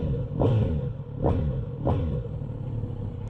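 A 2021 Kawasaki Z900 RS retro motorcycle rides out along a quiet lane with a steady low engine rumble, rising in three short revving surges as it pulls away.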